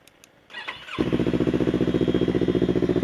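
A motorcycle with a 16-inch carbon Akrapovic exhaust cranks and fires up after some light clicks on its first morning start, then settles into a loud, throaty, rapidly pulsing idle close by.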